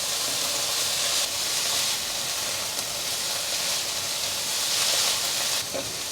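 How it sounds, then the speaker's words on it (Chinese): Cabbage stir-fried in a wok just after water is poured in, giving a steady, close, loud sizzle and steam hiss that holds for several seconds with no talking. "锅边淋入一些水，快速翻炒"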